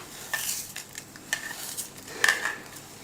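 Fried onions being stirred and mixed into a biryani marinade in a bowl, giving soft, quiet scraping and clinking at a close distance, coming in a few irregular bursts over a faint background.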